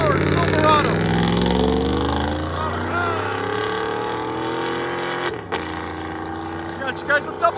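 A Toyota Tundra 5.7L V8 with an aftermarket exhaust pulls up close and loud, its deep engine note rising and settling into a steady rumble before it cuts off near the end.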